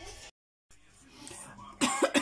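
A girl coughs in a few sharp, close bursts toward the end after a brief silence, with faint low household noise before.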